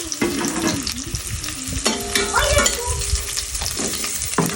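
Onion and garlic sauté in a hot pan for a Filipino home-cooked dish, a steady loud sizzle with scraping stirs and clinks of a utensil against the pan throughout, no talking.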